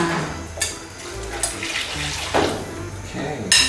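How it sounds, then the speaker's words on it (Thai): Water splashes and gurgles into a cooking pot of braised pork being made from a Korean home recipe, close and moderately loud, with people talking over the pouring. "ใส่น้ำเพิ่มนะ ใส่น้ำลงไปเนาะ"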